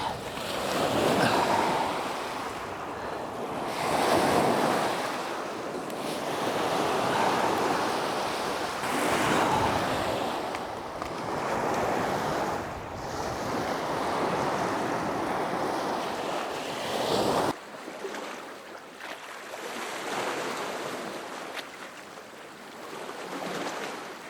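Ocean waves surge and break steadily on a shoreline at dawn, a continuous loud wash with rolling swells and wind buffeting the microphone, the roar dropping slightly toward the end.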